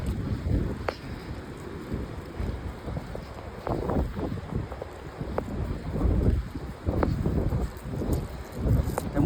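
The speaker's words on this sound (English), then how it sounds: "Oh God, the wind is there." Gusty wind buffets a microphone outdoors, a continuous low rumble with louder surges throughout.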